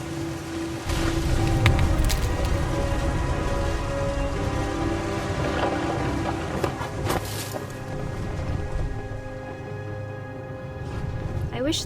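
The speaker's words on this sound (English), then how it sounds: "thunder sounded much too close and full of angry power" Rain and rumbling thunder from a storm in the video game What Remains of Edith Finch, heard as a steady wash of rain with deep low rolls and sharp cracks, loud and close, under a background music bed.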